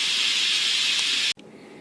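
Steam vents from a pressure cooker as a loud, steady, close hiss that cuts off abruptly, leaving a faint quieter hiss behind.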